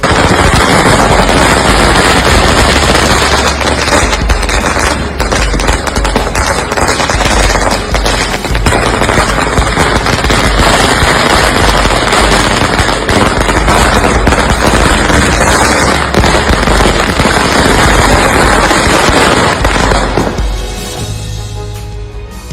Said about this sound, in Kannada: ಪಟಾಕಿಯನ್ನು ಸಿಡಿಸಿದ್ರು, ಸಂಭ್ರಮಾಚರಣೆ ನಡೆಸಿದ್ರು